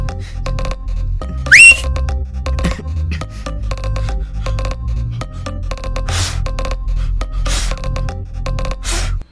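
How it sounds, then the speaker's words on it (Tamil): A person whistles in a Tamil comedy short, a brief rising shrill whistle followed by several short breathy whistle bursts, set over steady rhythmic background music. "விசில் அடிக்கணும்னா அவ்வளோ ஈஸி இல்லடா"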